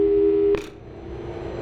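A steady telephone call tone from the Portal 2 video game is cut off by a click, leaving a faint line hum afterward.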